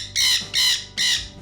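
A bird at a refuge for abandoned and seized exotic birds gives three loud harsh squawks in quick succession, close and clear.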